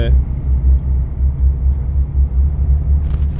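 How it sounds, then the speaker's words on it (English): A deep, pulsing truck engine rumble from the video game American Truck Simulator, a Volvo VNR 2018, throbs steadily throughout, loud and close, with a brief higher burst at the end. "that truck was actually quite loud"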